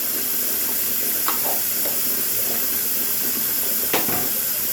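Hot tap water runs steadily into a bathroom sink with a constant hiss, and a couple of faint clinks stand out over the flow.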